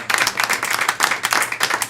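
A comedy show audience claps and applauds steadily, a dense patter of many hands at moderate volume.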